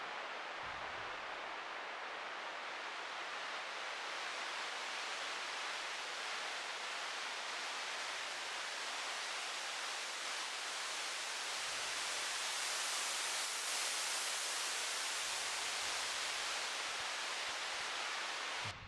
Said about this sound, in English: I love listening to white noise.